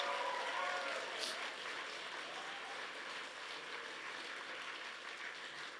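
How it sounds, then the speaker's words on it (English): Applause fills a convention opening ceremony as an audience claps for staff and volunteers, a steady, fairly distant wash of clapping that holds evenly throughout. "please take a moment to thank our staff and volunteers with a big round of applause"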